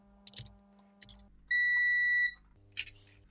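A multimeter tests a Frogger arcade machine's on-off switch for continuity and gives one steady electronic beep of under a second. Quieter clicks and soft handling noises come before and after it.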